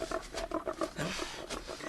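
Pigs on a farm grunting in a steady run of short, close, rough snorts, with faint talk underneath.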